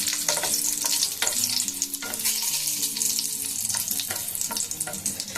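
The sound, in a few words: split dried red chillies frying in a pan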